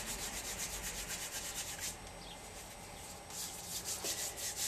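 Rough, steady rubbing of glue-covered hands wiped against paper, a dry scuffing texture in rhythmic strokes that pause briefly midway before resuming, close and fairly quiet with no talking.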